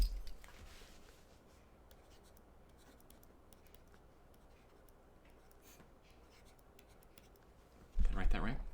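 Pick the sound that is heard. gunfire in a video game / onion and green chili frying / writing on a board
writing on a board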